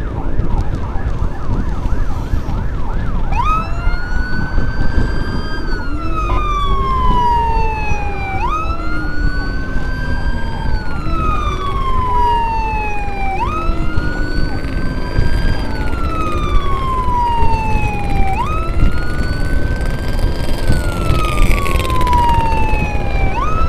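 A wailing ambulance siren sweeps up and down repeatedly over steady road noise, loud and close, escorting a heart patient in Bandung, with a second siren layered in toward the end.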